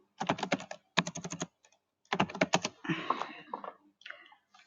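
Typing on a computer keyboard while entering a new group name in a display name box: two quick bursts of rapid key clicks, a pause, then a longer flurry of taps trailing into lighter, scattered keystrokes, close and clear with no talking.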